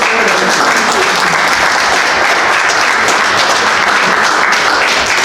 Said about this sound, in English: So I just want to give a round of applause